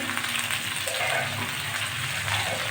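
Whole okra (bhindi) sizzles and crackles steadily in hot oil in a pan, seasoned with salt and turmeric, a close, continuous frying hiss.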